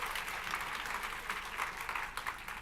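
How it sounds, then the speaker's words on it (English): Brief, fairly faint round of clapping from a conference audience, a steady patter of many hands lasting a couple of seconds. "Can we get some applause for how excited we are about that mindfulness works?"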